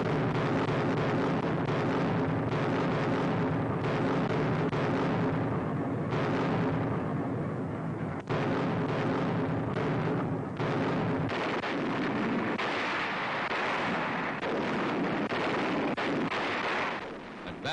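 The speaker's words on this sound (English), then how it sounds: "The assault begins at night with a terrific naval barrage." Naval artillery barrage during a night assault on the New Guinea coast, heard as a continuous loud roar of heavy gunfire and rumbling blasts, dense and sustained throughout with no talk.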